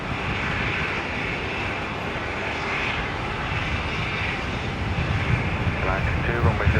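A Virgin airliner takes off at Brisbane International Airport, a loud sustained jet engine roar that holds steady and swells slightly toward the end, with radio voices faintly under it.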